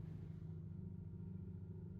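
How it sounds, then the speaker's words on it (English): A neighbor's tractor runs in the distance, a steady low engine rumble that holds even and unbroken with no talk over it. "I'm distracted by the neighbor's tractor sounds."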